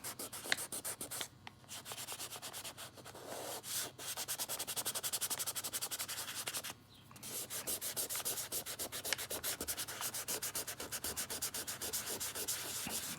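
Charcoal rubbed and smoothed across paper while shading a drawing, a close, soft scratchy rasp in quick repeated strokes with two brief pauses, quiet and without voices.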